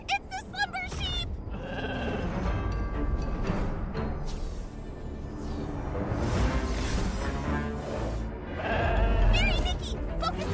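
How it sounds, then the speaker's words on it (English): Slumber sheep in the video game Infinity Nikki bleat repeatedly in short wavering calls, mixed with magical whooshes and game effects, with voices talking over parts of it. "Ah, it's the slumber sheep."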